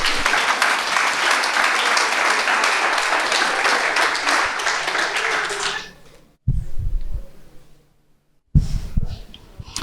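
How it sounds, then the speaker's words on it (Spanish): An audience at a sermon applauds in a loud, dense burst for about six seconds, then the clapping fades out and gives way to a short pause and some breathy sounds near the microphone. "Denle un aplauso a Cristo."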